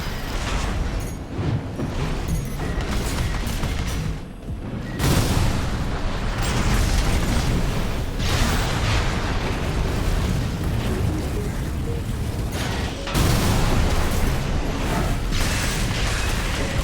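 Missile launcher explosions in the mech combat game Armored Core VI: loud, dense booming blasts that roll continuously for most of the stretch, with brief dips before fresh bursts of rumbling detonation.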